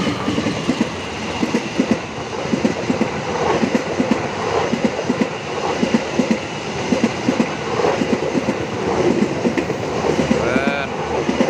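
A cargo-carrying train rolls past a trackside spot in Indonesia, its wheels clattering in a steady, continuous rhythm at close range with a deep rumble underneath.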